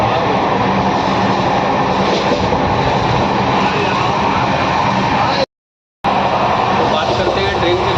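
The Shatabdi Express (12001) runs at about 110 km/h between Bhopal and Gwalior, heard as a loud, steady rumble and roar from inside the coach, broken by a brief cut near the end.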